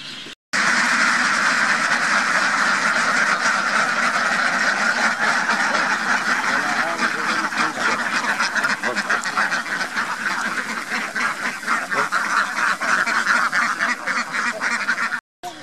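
A loud, dense chorus of many Campbell ducks on a duck farm quacking continuously and close by, overlapping calls with no pauses.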